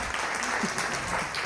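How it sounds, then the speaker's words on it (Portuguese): Applause for Jezebel at a women-in-directing seminar, a short, steady wash of many hands clapping at moderate volume throughout. "Palmas para a Jezebel!"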